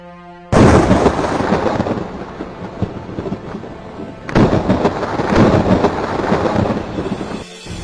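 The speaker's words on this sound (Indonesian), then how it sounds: "Provinsi Hubei dilanda petir yang kuat dan hujan deras pada tanggal 4 Mei 2020" Loud, continuous broadband roar of heavy rain and rumbling thunder during a strong storm in Hubei Province, China, with a sharp cut and renewed burst midway, dense and close throughout.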